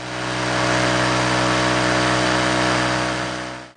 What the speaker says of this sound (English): I can go out and cut the rest of this out with the jigsaw